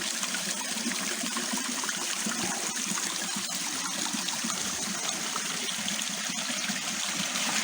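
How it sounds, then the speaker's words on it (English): Creek water runs steadily over travertine-coated rock in a tight canyon, a continuous close rushing and trickling with no voices, holding an even level throughout. "There's not a drop of water in the above ground creek channel, but it's really flowing down here"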